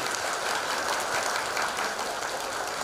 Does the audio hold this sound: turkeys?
no